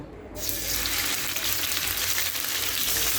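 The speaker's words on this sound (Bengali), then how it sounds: "এখন আমি মাছগুলো যে মেখে রেখেছিলাম ওগুলো ভেজে নেব" Marinated katla fish pieces fry in hot oil, a loud, dense, continuous sizzle that starts suddenly and holds steady throughout.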